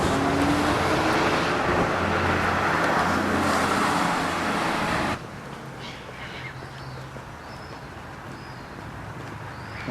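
Road traffic in Launceston, Tasmania, makes a loud, continuous rush of passing cars that drops abruptly to a quieter street hum midway, with crows cawing faintly in the background.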